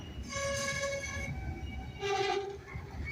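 A freight train rumbles steadily nearby while its horn sounds two tonal blasts, the second shorter, over continuous low rolling noise.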